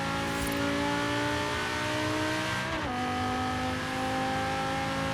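A steady, loud sports car engine in the video game Forza Horizon 3 drones at high revs, its pitch dipping briefly midway then settling, with no talking.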